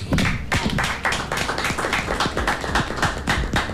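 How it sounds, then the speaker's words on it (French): A studio audience on a French talk show claps in a dense, steady burst of applause that stays at an even level throughout, with no voices over it. "On va applaudir pour cela."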